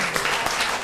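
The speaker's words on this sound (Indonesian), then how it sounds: "Nah, tepuk tangan." An audience at a talk on communication ethics applauding, a dense steady wash of clapping heard close and loud for a brief moment.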